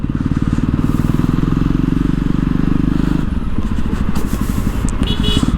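A Jawa Perak motorcycle engine runs loud and close during a test ride, a steady low thumping drone that shifts tone partway through, with faint wind noise and no voices.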